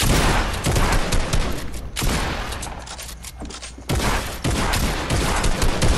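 Fortnite firefights erupt in loud, dense volleys of gunshots that fill the stretch, with a short lull in the middle before the shooting resumes. The shots sound close, with no voices.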